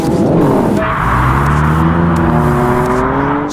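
A stock BMW M4 launches hard on a drag strip, its engine climbing steadily through the revs with a loud, close, continuous rising whine and roar.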